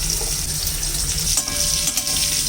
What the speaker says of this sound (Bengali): প্রথমে আলুগুলিকে একটু ভেজে নেব